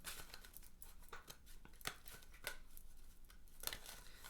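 Soft, quiet riffling and papery slaps as cards are shuffled, a series of brief crisp bursts with no talking.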